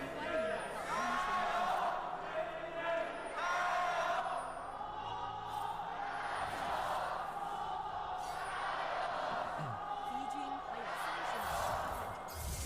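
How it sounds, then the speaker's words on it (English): A packed esports arena crowd of JDG and Top Esports fans chants and cheers at an LPL 2025 League of Legends match, a steady roar with rhythmic chanting swells and voices over it. "Crowd, have a word or two to say before we continue speaking."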